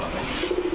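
A pair of Sobji Gorra pigeons cooing close by, a low soft throaty coo rising near the end over faint background noise.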